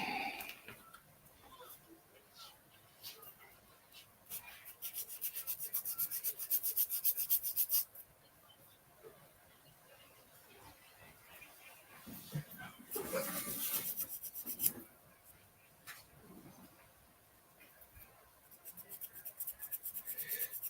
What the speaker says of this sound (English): Who likes to watch me sand?